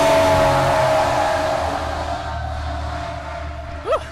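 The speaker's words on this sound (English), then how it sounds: "there's gonna be a fire truck passing by in just a moment" A fire truck roars past on an Oak Park street: a loud, broad rumble that gradually fades, then a brief rising siren whoop near the end.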